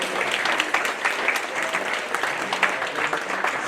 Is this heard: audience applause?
yes